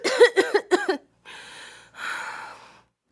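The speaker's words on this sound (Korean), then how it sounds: "이내 기침을 하기 시작했습니다." A child's three quick, sharp coughs in a row, followed by two long, raspy breaths, close and fairly loud, with no talking.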